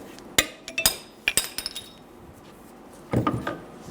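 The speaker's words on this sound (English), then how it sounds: "we're going to take a punch and a hammer. We're going to go inside of that groove and split the bearing." Sharp metallic strikes of a hammer on a punch split a wheel bearing race on a 2011-2014 Hyundai Sonata: a close, irregular burst of ringing blows, a short pause, then another cluster of hits.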